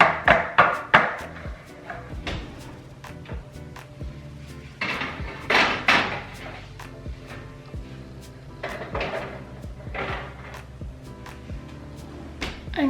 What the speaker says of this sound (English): we gotta tap out the pans because we gotta get those air bubbles out.